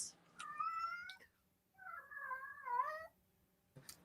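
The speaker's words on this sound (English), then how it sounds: "Sounds like I got a cat in heat over here." A cat gives long, drawn-out wailing meows like a cat in heat, two extended wavering cries in a row, heard faintly indoors with little else around.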